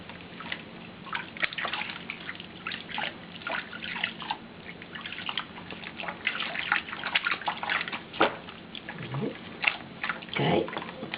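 Water from a tap runs and splashes while a dog is bathed in a tub, with a continuous trickle broken by irregular splashes and drips, heard fairly close and moderately quiet.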